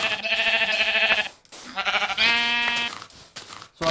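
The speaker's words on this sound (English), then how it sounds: "Ooh, a pink sheep." A pink sheep in the Minecraft video game bleats close and clear, with a few wavering, nasal calls separated by short gaps.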